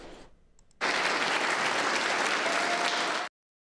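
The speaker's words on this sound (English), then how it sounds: "State Senator John Hoffman was met with roaring applause upon his return." Loud, dense applause from a Senate chamber welcoming State Senator John Hoffman back, starting abruptly after a faint murmur and holding steady for about two and a half seconds before cutting off.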